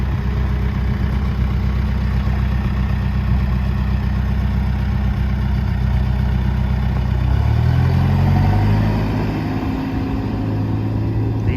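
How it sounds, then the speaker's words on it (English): Loud, steady turbo diesel engine of a 2010 Case 580 Super M backhoe idling with a deep rumble throughout; near the end the pitch shifts slightly as the engine note changes. "The engine sounds great"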